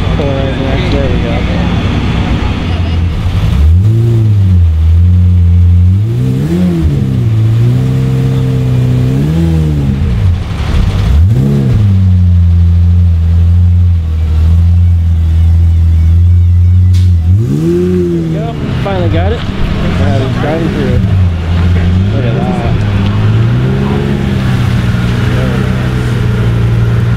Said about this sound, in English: One by one, all the cars are starting to come in.